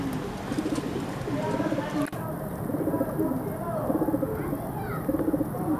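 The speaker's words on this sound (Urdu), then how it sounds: "یہ ٹیڈی کبوتر ہے" Teddy pigeons coo in a steady series of low, rolling hoots, close and fairly loud, the calls repeating every second or so with a brief knock partway through and faint voices beneath.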